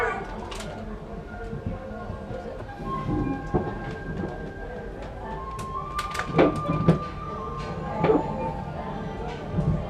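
A Disney's Animal Kingdom train pulls away toward Rafiki's Planet Watch, with a steady rumble of rail cars, scattered clicks and clanks, and faint wheel squeals building over several seconds amid background chatter.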